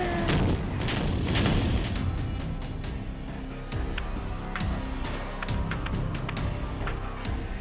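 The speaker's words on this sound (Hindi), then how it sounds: "यूक्रेन में जगह जगह गिर रहे बम इसके सबूत हैं।" Bombs exploding in the Ukraine war come through as a dense, loud barrage of low booms and sharp cracking blasts, continuous rumbling with repeated bursts across the whole stretch.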